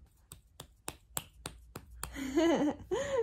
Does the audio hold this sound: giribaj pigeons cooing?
no